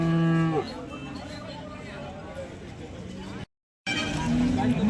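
A cow moos loudly at the start at the Sangola cattle market, then a busy outdoor crowd murmurs with traffic, and another moo rises near the end.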